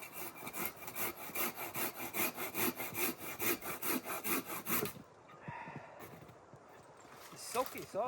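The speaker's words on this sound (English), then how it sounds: "And this is dead, so I'll cut it down" A Silky hand saw cuts through a dead wooden pole outdoors in quick, even back-and-forth strokes that rasp rhythmically for about five seconds, then stop, leaving a few faint rustles and soft knocks.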